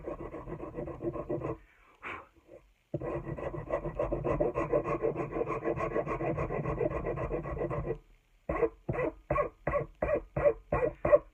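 Sandpaper rubs back and forth over a smoothed-out dent, first in long continuous strokes, then in a run of short, evenly spaced rasping passes, close and fairly loud with no talking.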